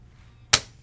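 Dry-fire trigger click of an Ermox XPro-T pump action shotgun, a single sharp, close snap with a quick decay in an otherwise quiet moment.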